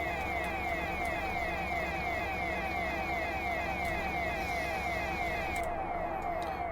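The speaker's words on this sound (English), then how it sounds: "we're going to turn that siren off because it does get annoying after a bit" DR73106 ballast tamper in Train Simulator 2021 with its warning siren sounding continuously, a rapid rising-and-falling wail over a steady engine rumble that cuts out near the end.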